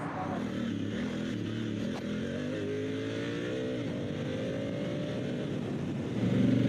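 An adventure touring motorcycle on Kenda K678 Big Block Paver tires pulls onto the road, its engine droning steadily and rising in pitch as it accelerates, with constant wind rush and a louder surge near the end.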